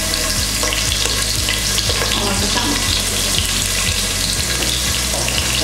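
Chopped onion sizzles and fries with mutton in a pot for biryani, a loud, steady crackling hiss with regular stirring knocks and scrapes spaced about half a second apart.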